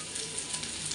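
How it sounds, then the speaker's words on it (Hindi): Okra frying in a pan with garam masala, coriander powder and red chilli powder, giving a steady, soft hiss of sizzling oil with faint crackles throughout. "अब हम इसे अच्छे से भून लेंगे जब तक कि हमारे भिंडी जो है वो अच्छे से फ्राई नहीं हो जाते।"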